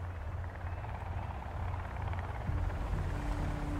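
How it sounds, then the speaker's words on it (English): Sons of the Forest helicopter being torn out of the sky in-game: a steady low rotor-like rumble and roar that swells louder toward the end, with a sustained hum joining in near the close. "You guys watched the helicopter just get torn out of the sky."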